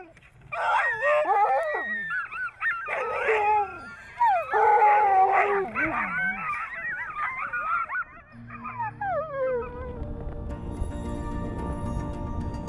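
A sled dog team near Iqaluit in the Arctic howls and yips together loudly and continuously, voices rising and falling, then fades into a windy outdoor rumble.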